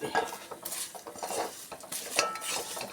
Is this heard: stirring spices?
yes